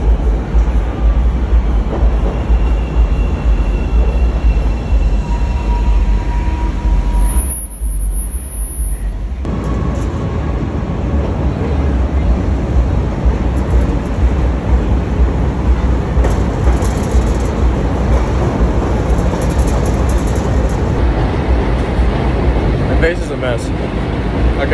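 A train rumbles past in Chicago, heavy and loud with steady broadband roar filling the whole stretch, a brief dip partway through, alongside outdoor noise.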